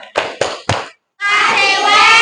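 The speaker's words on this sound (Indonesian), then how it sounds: "Tepuk tangan." Children clap hands together in three sharp, evenly spaced claps, then after a short pause break into a loud, sustained burst of mixed applause and noise up close.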